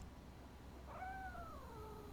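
A cat meows in the video game RoboCop: Rogue City, a single drawn-out, falling meow over steady background ambience, with no talk.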